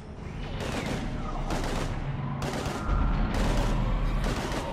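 Heavy gunfire in a Mass Effect 3 battle, repeated loud bursts of rapid shots in a fierce firefight, with booming impacts and no speech.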